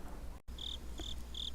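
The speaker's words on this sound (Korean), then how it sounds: "귀뚜라미 우는 소리만 간간히 들리는 거리를" Crickets chirp at night in short, evenly spaced bursts, three clear trills over a low steady background hum, quiet and alone with no voices.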